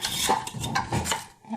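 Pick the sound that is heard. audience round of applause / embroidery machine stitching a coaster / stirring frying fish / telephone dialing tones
stirring frying fish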